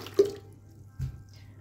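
Water is added to a mixture in a container, giving a couple of brief, close splashes and trickles over a quiet background.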